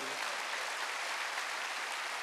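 A church congregation claps together during a sermon, a dense, steady wash of applause from many hands that holds at an even level throughout and has no voices over it.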